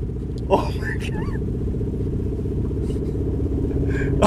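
A broken 3-cylinder 1991 Subaru Legacy drives with a low, uneven engine rumble throughout, close and steady, while people exclaim and laugh over it.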